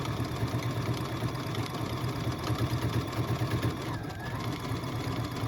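A sewing machine runs steadily, stitching decorative stitches in a continuous mechanical whir with a fast, even rhythmic pulse, close and moderately loud, with a brief dip in the motor note near the end.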